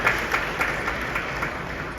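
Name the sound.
audience applause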